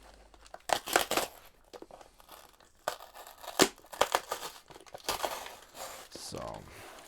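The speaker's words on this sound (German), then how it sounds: "So, vorsichtig auspacken." Tamron lens box for Sony E being carefully unpacked, with bursts of tearing and crinkling packaging in several close, uneven rustles over about seven seconds and a brief voice near the end.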